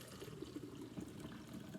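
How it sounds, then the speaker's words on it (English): Fruit-flavored fermented kombucha tea pours steadily into a measuring cup, a soft continuous liquid trickle and splash lasting a couple of seconds, close and fairly quiet with no talking. "I pour the fruit-flavored fermented tea into a measuring cup"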